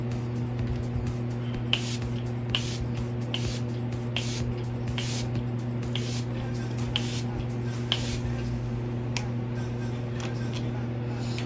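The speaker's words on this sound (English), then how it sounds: "I'm going to use this AOA setting spray." A series of short hissing spray bursts of AOA makeup setting spray, about a dozen, repeated at a steady pace over a low constant hum, close to the listener.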